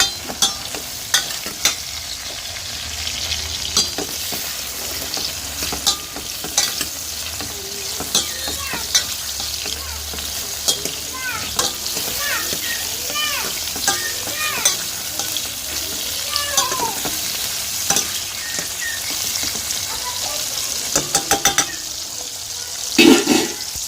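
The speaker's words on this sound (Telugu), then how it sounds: "బాగా ఆయిల్ ఫ్రై అయినంత వరకు ఫ్రై చేసేసుకొని కర్రీ తాలింపు" Oil frying for a curry tempering is stirred continuously, giving a steady close sizzle with crackles and spatters and frequent utensil scrapes and taps throughout, with no speech.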